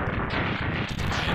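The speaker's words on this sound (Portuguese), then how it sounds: "Essas explosões loucona aí" Loud, dense explosions from the Mega Man X3 video game burst continuously as a harsh, crackling barrage, with a brief dip near the end before the noise resumes.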